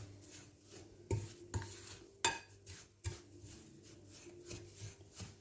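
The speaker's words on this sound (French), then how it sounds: "Donc on va sabler la semoule. Vous pouvez le faire à la main ou comme moi à la cuillère" A spoon works butter into semolina in a bowl for mini harcha semolina flatbread, giving soft gritty scraping and rubbing with a few sharper scrapes and knocks against the bowl, close and fairly quiet.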